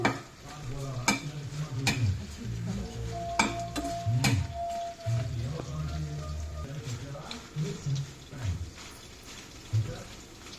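Onions and greens frying in a pan on a home stove for a sorrel (chukka kura) chutney, with steady sizzling and occasional clatter of a spatula stirring, fairly close, with a voice speaking at moments.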